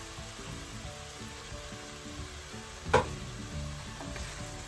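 Canned sardines go into a frying pan with sautéed bottle gourd, a faint continuous sizzle with one brief sharp clatter midway and soft stirring scrapes, no talk.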